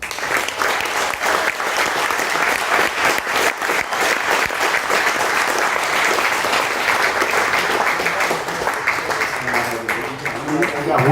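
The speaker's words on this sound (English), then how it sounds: "please assist me in welcoming David with a great round of applause." An audience at a reunion opening reception breaks into loud, sustained applause that lasts the whole stretch, a dense wash of many hands clapping together with some crowd noise mixed in.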